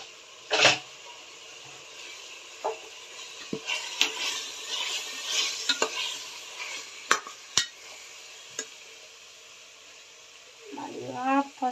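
Masala for vegetable biryani frying in a pan, faint sizzle under scattered clinks and scrapes of a spoon against the pan, with a short burst of talk near the end.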